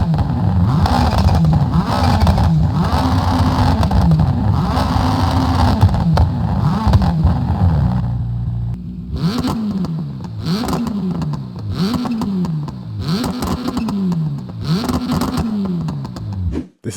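Rally car engines from the video games Assetto Corsa Rally and Dirt Rally 2.0, loud and close, revving hard with repeated rising gear pulls, first a sustained roar and then rhythmic climbs and shifts.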